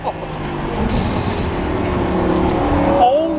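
A rear-wheel-drive Lamborghini Huracan driven hard, its engine a steady loud drone with sustained harmonic tones that rise near the end as it revs, recorded from inside the car with a voice briefly over it.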